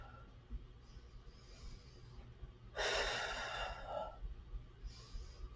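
During a seated yoga pose with arms raised overhead, a person takes a deep, audible breath that rushes in loud and close, then a softer exhale. The room is otherwise quiet.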